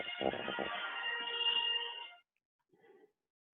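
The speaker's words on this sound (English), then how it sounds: "My phone's ringing." A phone ringtone chimes steadily for about two seconds, close and clear, then stops, followed by a brief faint sound and silence.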